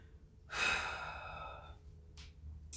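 A single deep breath taken after a stick mobility exercise, heard as a close, sighing exhale that fades out, followed by a short faint breath.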